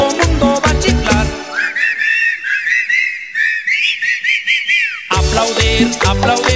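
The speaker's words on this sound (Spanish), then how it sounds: "A chiflar, todo mundo va a chiflar." Whistled melody from a crowd singing along to a cumbia song, a rising and sustained tune lasting several seconds between bursts of loud band music at the start and end.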